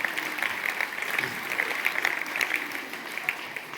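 Audience at an education institution's event applauding in welcome, a dense steady wash of many hands clapping at moderate distance, sustained without break rather than three distinct claps.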